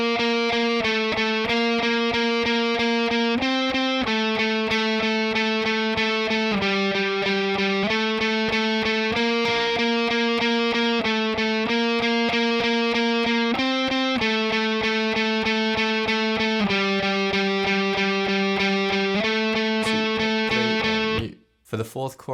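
Distorted electric guitar plays the bridge of a song, a dense, loud, continuous wall of chugging downstrokes on held power chords that shift pitch every bar or so, cutting off abruptly at the end.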